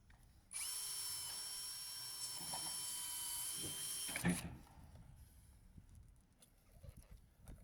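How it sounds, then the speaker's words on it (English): A power drill whines at a steady high pitch for a few seconds, close up, drilling a hole through metal gutter, then stops with a clunk, leaving quiet rustling. "Grab my drill and just drill a hole through him."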